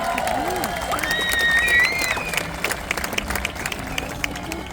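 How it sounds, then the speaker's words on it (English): A rodeo crowd at a state fair grandstand breaks into broad applause, steady dense clapping with some cheering across the whole stretch, while a voice speaks briefly over it. "We can applaud for that."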